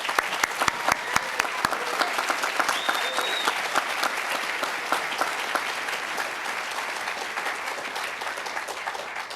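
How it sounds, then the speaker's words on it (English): Sustained applause from a large crowd of family and friends at a 2011 technical college commencement ceremony, dense clapping and steady throughout with no talking. "give a round of applause to our class of 2011 graduates"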